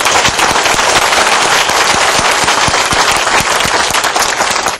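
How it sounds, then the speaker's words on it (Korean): A church congregation at a Revelation seminar applauds to give glory to God, loud and sustained rapid clapping filling the room before cutting off abruptly at the end. "하나님께 영광의 박수 드립시다."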